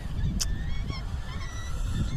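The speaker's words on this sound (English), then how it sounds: "And I saw the swans" Swans honk outdoors, a few brassy nasal calls standing out over steady wind-like background noise, moderately close with no talking.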